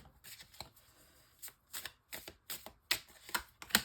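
Tarot cards laid out one by one, a series of short crisp slaps and swishes of card on card, close and fairly quiet, coming in irregular quick bursts.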